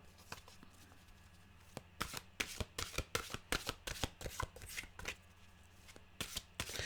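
A Mystical Wisdom card deck being shuffled by hand: quiet at first, then a rapid run of crisp, close riffling snaps for several seconds, pausing briefly before a final burst of shuffling.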